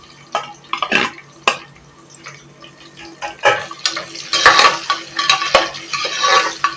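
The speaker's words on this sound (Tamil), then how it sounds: "கட் பண்ணி வச்சிருக்கிற இந்த வெங்காயத்தை போட்டுக்கலாம்." Onions and spices going into a pressure cooker, with scattered clinks and scrapes of a spoon against metal and a soft sizzle building in the second half, close and fairly loud.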